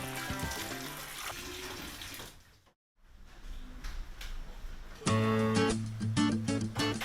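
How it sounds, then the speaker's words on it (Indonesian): Water hyacinth is rinsed under running tap water, a steady splashing stream that pauses briefly midway and then gushes again more strongly, with a tonal music-like layer behind it. "eceng gondok harus dicuci dengan air mengalir hingga bersih"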